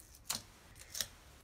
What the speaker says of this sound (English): Take out the tape backing,